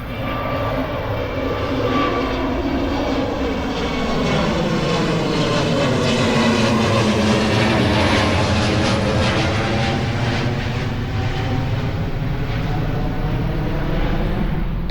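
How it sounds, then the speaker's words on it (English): An airplane passes overhead on a hot Texas day, with a loud sustained engine roar whose pitch sweeps downward as it goes by, filling the whole stretch. "Ooh, airplane."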